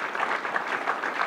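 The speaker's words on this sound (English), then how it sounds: "a round of applause" Audience at a Science on Screen talk applauding after a Q&A, a brief steady patter of many hands clapping at moderate distance.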